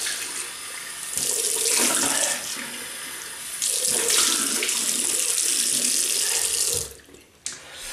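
Tap water runs steadily and loudly into a sink while a face is rinsed during a wet shave, with the flow shifting as hands move through it, then cutting off near the end.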